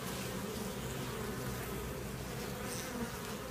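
Honey bees buzz in a dense, steady drone around a queen cage pulled from the comb during requeening, a continuous close hum with no talking.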